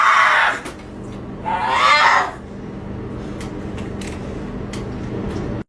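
A woman in labor screams in pain, two loud, strained bursts, the second longer, followed by quieter room noise and faint clicks.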